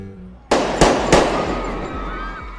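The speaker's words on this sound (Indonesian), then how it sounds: "Jian menembakkan pistolnya ke udara" A pistol is fired into the air: three sharp, loud bangs in quick succession, each with a long echoing decay, close to the listener and with no speech.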